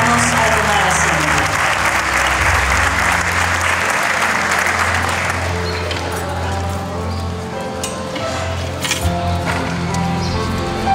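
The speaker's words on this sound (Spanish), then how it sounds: "Le brindamos un fuerte aplauso a los estudiantes licenciados y les invitamos a tomar asiento." Sustained, loud applause from a crowd honoring graduating students at a school graduation ceremony, a dense wash of clapping filling the whole stretch with faint voices beneath.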